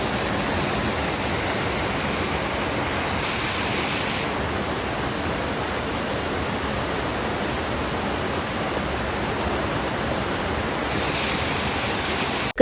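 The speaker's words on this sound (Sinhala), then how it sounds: "මේ තියෙන්නේ ගල් ඔරුව ඇල්ල" Rushing water from Gal Oruwa Ella waterfall in Lankagama, Sri Lanka, a constant broadband roar that stays loud and even throughout with no voices.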